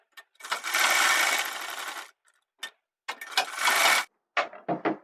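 Sewing machine stitching a V-neck kurti, in two loud whirring runs of about two and one seconds, with short start-stop bursts between and after them, close by.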